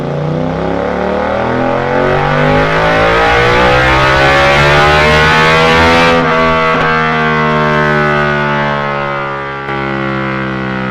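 A Suzuki SV motorcycle fitted with a Delkevic Mini 8-inch (200mm) carbon fibre round silencer revs hard on a dyno, its loud, continuous exhaust note climbing steadily and then dropping back around the middle before holding high again.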